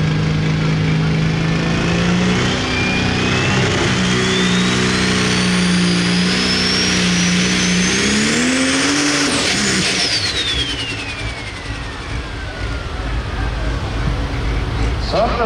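A pulling tractor in a truck and tractor pull at a county fair roars at full throttle, its engine pitch climbing under strain, then faltering and dropping as it labors, loud and close with a crowd behind.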